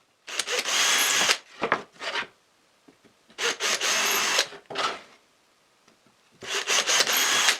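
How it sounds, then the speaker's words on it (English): Drilling screw holes into a wooden board for a router table copying jig, three separate bursts of loud, broadband whirring and grinding spaced by quiet pauses, heard alone without any voices. "I'm going to make the holes for the screws now."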